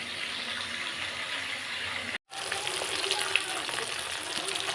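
Steady hissing sizzle of tangra fish pieces frying in oil in a pan, continuous and close, broken by a momentary gap before resuming with faint clinks.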